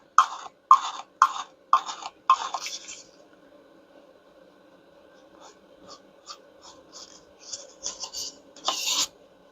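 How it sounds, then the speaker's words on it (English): A mixing stick being scraped clean of thick paint paste: a run of sharp, rasping scrapes in quick succession, then softer, scattered scraping and rubbing, close up, with no talking. "So you do want to scrape your stick off."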